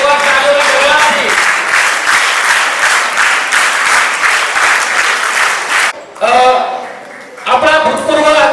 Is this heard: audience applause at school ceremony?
yes